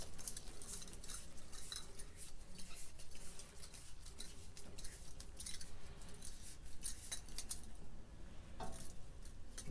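A cheap generic Chinese camping stove burner being screwed down onto a fuel canister, giving continuous close metallic scraping, clicking and rattling across the whole stretch with no talk.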